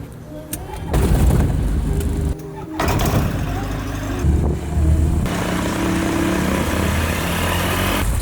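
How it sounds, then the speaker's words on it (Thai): A small airplane engine coughs and catches on startup, then settles into a loud, steady rumbling drone up close, with someone talking briefly over it. "แล้วเราก็พร้อมติดเครื่องยนต์เคลียร์ป๊อป"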